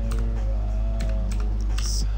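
Keys clatter on a computer keyboard in quick, uneven bursts during a Minecraft session, close and fairly loud over a steady low hum from game music or background tones.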